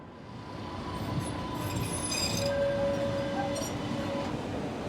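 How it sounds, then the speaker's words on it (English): An MBTA E branch trolley pulls in from downtown, a low rolling rumble swelling nearby with thin, high wheel squeals rising over it and fading, no voices. "So the tram just arrived from downtown, and it immediately turns around."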